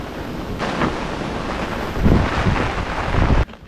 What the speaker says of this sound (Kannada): ಭಯಂಕರ ಗಾಳಿ